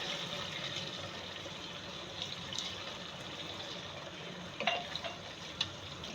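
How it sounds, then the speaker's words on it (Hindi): Water is poured into liver (kaleji) frying in a pan, producing a soft continuous sizzle and hiss with a few faint clinks and splashes near the end. "और अब इसमें मैं थोड़ा सा बिल्कुल शामिल करूँगी पानी।"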